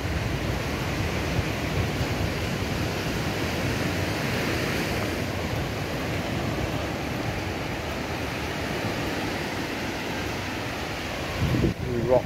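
Ocean waves wash steadily at Rockley Beach on the south coast of Barbados, a broad continuous surf roar with wind noise across the microphone.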